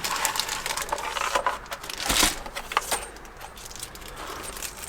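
Cardboard product box for camper reading lights pops open and is handled, with small loose screws rattling and jangling inside in quick bursts.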